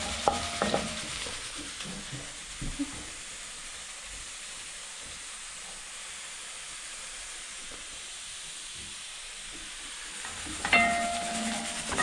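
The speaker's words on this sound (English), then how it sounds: "So I'm frying some onions." Steady, soft sizzling hiss of onions frying in a pan, continuous and close, with a few clinks of utensils at the start and end.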